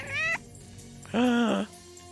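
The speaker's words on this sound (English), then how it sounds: "it sounds like we're just Blofeld's cat" A cat meows twice, close and clear: a short first call, a pause, then a longer, louder, drawn-out meow.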